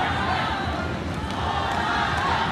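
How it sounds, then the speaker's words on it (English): A packed arena crowd roars steadily at an MMA bout in Manila between Eduard Folayang and Amir Khan, a loud, dense wash of voices that holds at a constant level throughout. "listen to the crowd"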